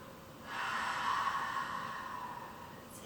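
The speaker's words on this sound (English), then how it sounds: "breathing in through the nose" A slow, deep inhale drawn in through the nose during a gentle yoga session, soft and airy, swelling and then tapering off, close and quiet with no talking.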